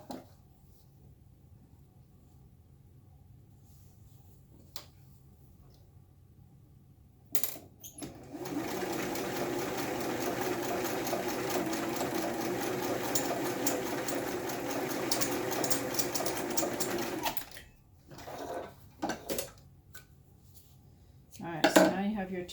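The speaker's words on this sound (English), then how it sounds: "Just lining it up nicely as I sew." A sewing machine stitches fabric pieces in one steady mechanical whir lasting about ten seconds, with quiet handling noises before and after and a soft voice talking around it.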